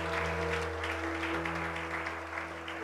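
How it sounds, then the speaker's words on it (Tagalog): A church congregation clapping together in sustained applause, a dense, steady wash of hands with a faint hum of the hall's sound system underneath. "Minsan pa, palakpakan mo ang Panginoon."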